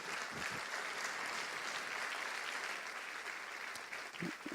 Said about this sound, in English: So if we can give her a special round of applause.